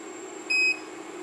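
Gas leak detector sounds one short, loud electronic beep close by, checking for flammable gas near a butane lighter, then falls silent.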